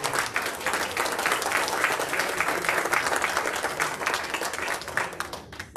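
Church congregation applauding steadily throughout, a dense, even wash of many hands clapping at moderate distance with no break.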